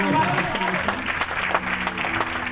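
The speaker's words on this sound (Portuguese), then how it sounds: "Você pode aplaudir ao nome do Senhor" Applause from a church congregation during a sermon by Pastor Alexandre Silva in Newport, Rhode Island, a dense wash of clapping sustained throughout with a voice or music murmuring underneath.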